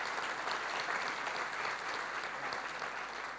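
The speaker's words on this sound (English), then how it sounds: "I'll give an applause for the book." Steady, even applause from an audience at a JSHeroes 2025 tech conference talk, a dense wash of clapping that runs unbroken and fairly distant for the whole stretch.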